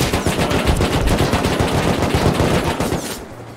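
Rapid automatic AK rifle fire from several shooters in the survival game Rust during a base raid, a dense, loud, continuous rattle of overlapping bursts that cuts off just before the end.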